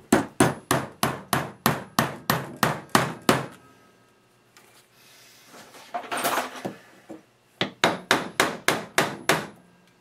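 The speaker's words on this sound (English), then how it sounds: "I'm going to hammer this in on the edge over here." Hammer blows driving a knife piece in on the edge at a shop workbench, two fast regular runs of about eight sharp strikes each, separated by quieter handling noise and a few softer knocks.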